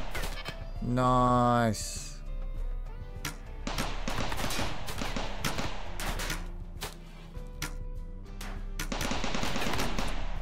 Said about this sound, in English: Forgot we get to see the turrets in action this time.